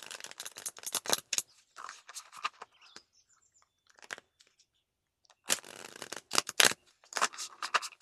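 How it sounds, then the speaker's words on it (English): A deck of cards being shuffled up close: bursts of rapid riffling and flicking, then a pause with faint handling, then another round of quick riffles, no speech. "So I'm just going to shuffle a couple of times."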